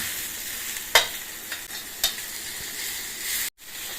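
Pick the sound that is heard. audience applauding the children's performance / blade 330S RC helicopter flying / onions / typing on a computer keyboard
onions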